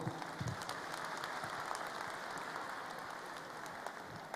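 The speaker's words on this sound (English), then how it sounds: "please join us to give them all a big" Audience applause at a plenary session of the AICIS 2023 conference, a fairly quiet but continuous patter of many hands clapping, with a few sharper claps standing out near the start.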